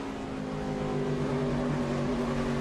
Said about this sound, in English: You could hear him pedal that throttle, trying to keep that front end to take a set.